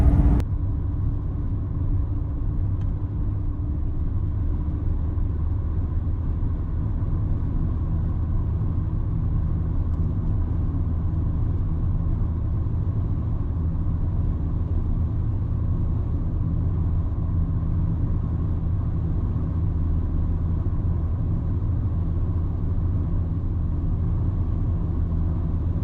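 A VW Golf with a switchable water pump fault on a test drive, its steady low engine and road rumble droning evenly from inside the car with no talk.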